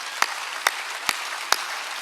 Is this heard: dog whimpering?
no